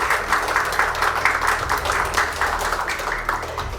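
An audience applauds a civil servant receiving a Prime Minister's commendation at a ceremony marking Korea's 10th Information Security Day, with steady, dense clapping lasting throughout at moderate volume.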